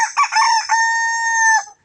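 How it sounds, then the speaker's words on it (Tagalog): A red junglefowl (labuyo) rooster crows once, close and loud. The call opens with quick broken notes and ends in a long, shrill, held tone before cutting off. "So yan po yung kanyang tilaok"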